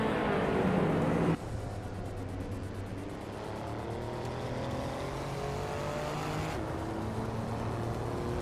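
A Volvo S60R race car in a racing video game roars close and loud, drops sharply after a moment, then holds a steady engine drone with repeated rising pitch sweeps as it shifts through gears.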